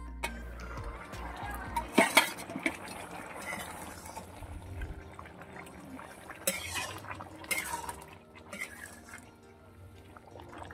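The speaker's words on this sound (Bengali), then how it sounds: "তো ঢাকনা দিয়ে রেখে দিচ্ছি" A lid is set onto a cooking pot of cauliflower and bean dal, giving a couple of sharp metallic clinks over soft bubbling and kitchen background, then quieter simmering with occasional faint clatter.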